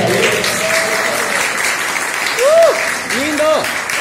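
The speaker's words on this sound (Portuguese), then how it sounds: "Palmas para o Odair" An audience at a poetry and arts evening applauds steadily to welcome a longtime supporter, loud continuous clapping with cheering voices rising through the middle and end.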